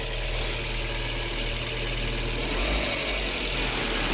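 A car engine runs steadily at idle after the timing belt set was replaced, a continuous close mechanical drone with no voices over it.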